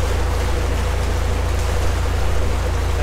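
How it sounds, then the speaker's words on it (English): Rain falls steadily at Hermitage Lock on a canal, a constant soft hiss of drops on water and surfaces over a low rumble, with no talking. "It started to rain, hence the coat."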